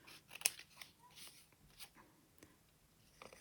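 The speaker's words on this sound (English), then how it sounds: "More cutting." Scissors cut through paper in short, quiet snips, closely miked, with one sharper click early and faint rustles between the cuts.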